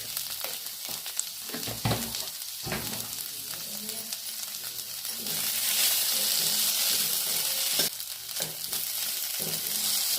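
Boiled potatoes and roasted peanuts sauté in a hot pan for sabudana khichdi, a steady sizzle that swells louder midway, broken by scraping stirs and clanks, with no talking.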